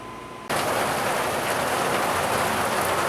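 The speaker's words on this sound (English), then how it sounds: "it finally decided to start raining" Rain starting abruptly and then falling steadily and evenly, a dense hiss of drops on surfaces close by, with no talk.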